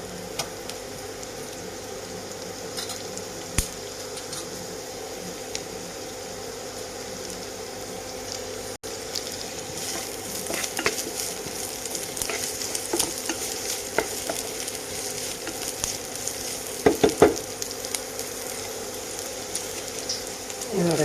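Onion, chili and coriander leaves fry in a little oil for mushroom cutlets, making a continuous crackling sizzle broken by stirring scrapes and a cluster of clinks near the end.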